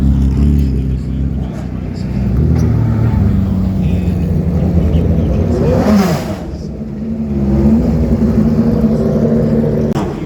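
A race car engine at the VIR racing circuit during an IMSA event drones loudly and steadily, with shifts and a rising whine midway, under continuous commentary from a radio broadcaster.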